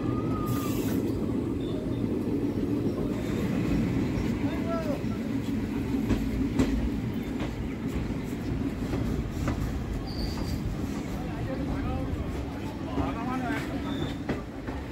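The 13113 Hazarduari Express, a Kolkata–Lalgola passenger train, running on rails: a steady low rumble of wagons with rhythmic clatter and occasional wheel squeals, close and continuous, with people talking under it.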